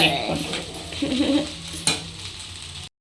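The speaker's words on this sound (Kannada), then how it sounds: "ಇದನ್ನ ಎರಡು ನಿಮಿಷ ಚೆನ್ನಾಗಿ ಬಿಸಿ ಮಾಡ್ಕೊಳ್ಳೋಣ ಐ ಫ್ಲೇಮ್" Idli upma being heated and stirred in a pan over a high flame, with a steady sizzle under scraping and clinking of a utensil against the pan, one sharper knock midway, then a brief cut to silence.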